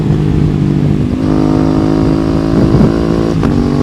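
An Aprilia RS 660 motorcycle with an Akrapovic exhaust sings loudly and steadily at high revs, its tone rising and falling as the bike pulls past, with no voices over it.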